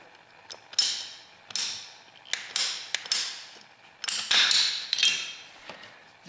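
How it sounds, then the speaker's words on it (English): A ratcheting PEX tubing cutter shortening a length of PEX plumbing tubing gives a handful of crisp crunching squeezes and clicks, close up with short pauses between strokes. "I got a piece of Pecs tubing here. I want to make it a little bit shorter. Use my fancy cutter."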